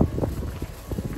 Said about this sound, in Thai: ลมดีมากๆเลยค่ะ